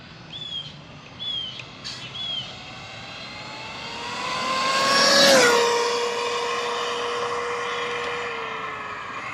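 A 1/7-scale RC car running a Castle Cobra 5 ESC on 4S power makes a fast speed pass: a rising electric whine swells, peaks loudly close by, then drops sharply in pitch as it races away, with faint bird chirps before.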